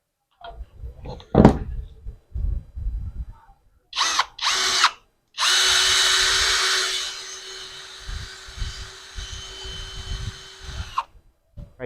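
Power drill fitted with a larger bit boring into a wall, a couple of short bursts and then a sustained whirring grind lasting about two seconds, close and loud, with tapping and handling noises around it.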